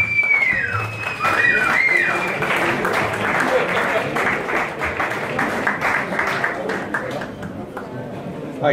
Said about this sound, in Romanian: Aplauze pentru Cristina, vă rog.